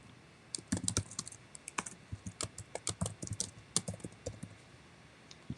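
Rapid, uneven clatter of keystrokes on a computer keyboard as an email is typed, close and crisp with irregular bursts and short pauses, no voices.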